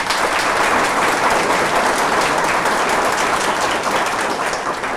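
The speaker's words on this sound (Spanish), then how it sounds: "para quien pido un fuerte aplauso" An audience at an extraordinary assembly of Ecuador's accounting federation breaks into loud, dense applause that holds steady from start to finish, with no voices over it.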